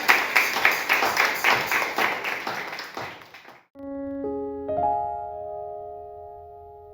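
A church congregation at a Sunday service claps in a brisk, steady rhythm for about three and a half seconds, then stops abruptly as sustained keyboard notes ring out.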